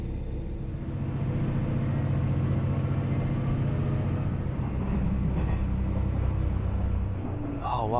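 An old train rumbles steadily along a line in Japan, a continuous low clattering drone heard from on board at close range, with a faint higher squeal near the end.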